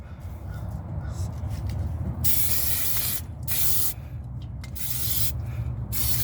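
Semi-gloss black Rust-Oleum spray paint hisses onto a 1998 Ford Ranger 4x4 frame with a welded patch repair, several close bursts of aerosol spray starting and stopping over a low background rumble.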